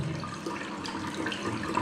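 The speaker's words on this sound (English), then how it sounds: "So letting water flow from here" Water runs steadily through a K&N air filter during off-road maintenance cleaning, flowing from the clean side to the dirty side with a continuous close splashing rush and no talk.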